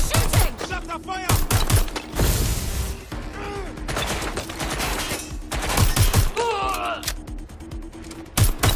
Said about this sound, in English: They're shooting!